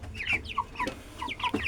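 Twenty-five-day-old broiler chickens make soft, repeated clucks and chirps close by, a quick irregular series of short calls at low volume.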